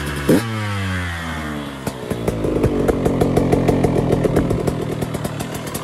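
A KTM 125 SX supermoto two-stroke motorcycle starts up and revs close by, loud sharp bursts climbing and dropping, then a rapid crackling idle with repeated throttle blips.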